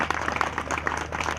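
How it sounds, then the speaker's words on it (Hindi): A crowd claps at a temple inauguration gathering at Shukratal, a short dense burst of applause with no voices over it. "ताली तो बजा दो भाई।"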